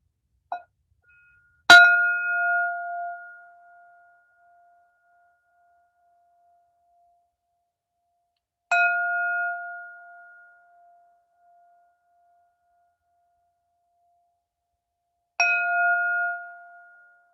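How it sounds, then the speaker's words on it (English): A meditation bell rings three separate times with long silences between, each strike bright and clear with a sustained ringing tone that decays slowly, heard alone. "That's third bell."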